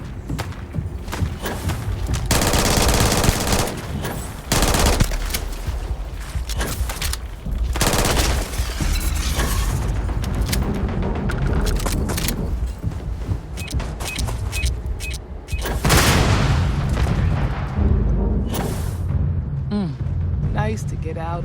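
Bursts of gunfire from the video game Starfield crackle in dense volleys over several stretches, mixed with other game sounds and people talking.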